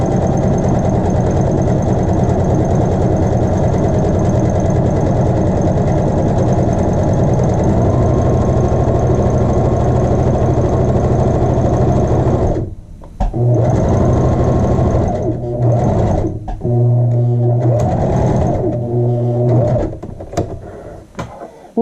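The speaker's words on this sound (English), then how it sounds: "And continue with my edge stitch down to the bottom of the facing." Sewing machine edge stitching the facing of a child's shirt, a loud rapid mechanical whir running continuously, then several short bursts with brief stops between them as the stitching reaches the bottom of the facing.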